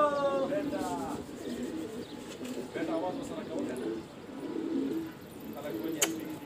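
Pigeons, qasid and rangeen fancy breeds, give soft low coos while circling back toward their home loft, with a voice talking over much of it and brief flutters near the end.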